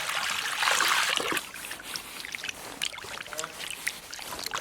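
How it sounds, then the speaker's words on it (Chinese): Water is poured over sliced beef in a bowl to wash it, giving a loud splashing rush that eases into softer sloshing and trickling as the meat is stirred by hand. "切好的牛肉倒点水洗一下"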